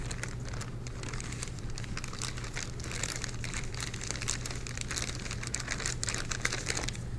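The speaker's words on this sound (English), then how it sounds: "Goes in the bag, push all the air out, zip it up, and we're done." A plastic zip bag crinkles and rustles continuously and fairly softly up close as a preserved fetal pig is placed inside it and the air is pressed out, with no voices.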